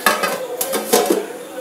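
A metal lid set onto a cooking pot of simmering beef rice, Cochin style, with a few sharp clanks and clatters close by in a home kitchen.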